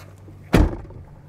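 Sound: motorhome door shutting

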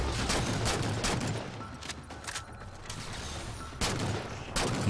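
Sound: gunfire in the video game Halo 4

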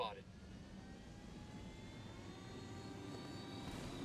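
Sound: helicopter flying in a video game

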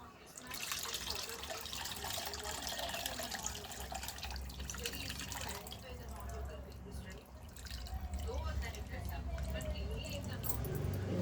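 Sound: water poured into fish curry pot

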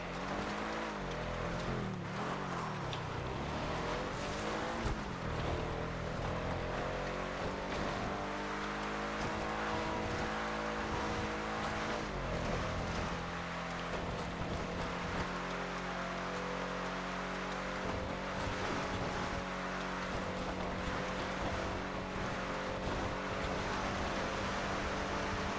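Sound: Ocelot XA-21 car driving in video game GTA 5

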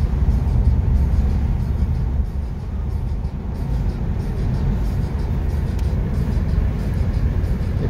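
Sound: passing Oro line intercity buses on highway

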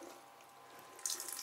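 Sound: water running from a tap on a sailboat

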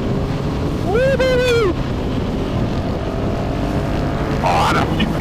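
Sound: Husqvarna 701 Supermoto motorcycle riding

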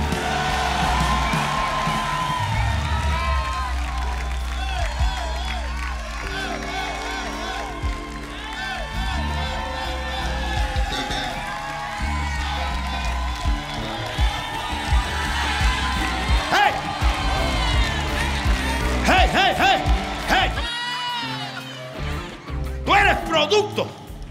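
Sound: congregation applauding and cheering

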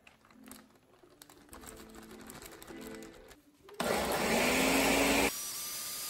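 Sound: blender pureeing thawed pears

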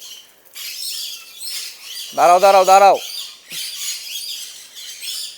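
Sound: pet birds chirping while being sprayed with water

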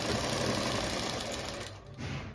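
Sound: sewing machine stitching along the edge of a palazzo pocket

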